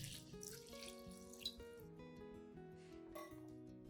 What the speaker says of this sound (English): Then, add a small amount of clean water to the cup.